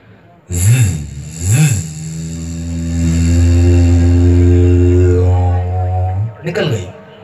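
A mimic performer at a youth festival imitates a motorbike: a couple of quick revs, then a long steady droning roar that fades, ending with another short rev burst.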